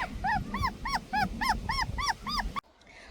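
Puppies yelp and whimper in a quick, repeated series of high-pitched cries close by, with rustling underneath, before cutting off abruptly.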